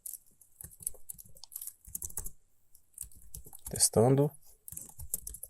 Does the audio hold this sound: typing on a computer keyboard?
yes